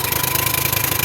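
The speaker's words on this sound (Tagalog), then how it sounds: "pero kaya pa rin yan kasi malakas naman yung makina" A boat engine runs steadily and loud up close with a rapid, even throb and a rattling vibration, while the boat pushes slowly through water thick with water lilies.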